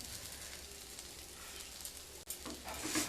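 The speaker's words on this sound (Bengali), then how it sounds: "এইভাবে দুটো সাইড ভালো করে ভেজে নেব" Semolina cheela frying in ghee in a pan, a quiet steady sizzle and crackle with a faint low hum beneath, close and with no talk.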